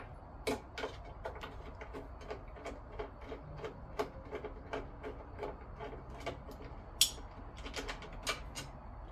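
Screws being unscrewed from a guitar speaker mounted in a cabinet, giving a steady series of small, sharp ticks and clicks close by, fairly quiet, with one slightly louder click near the end.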